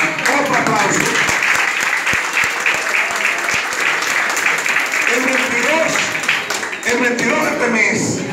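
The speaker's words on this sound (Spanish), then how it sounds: "Y al Club Cultural y Deportivo La 500, otro aplauso" Crowd applause for a local sports and cultural club at a community ceremony, sustained clapping throughout with a voice speaking over it and a few sharp individual claps standing out.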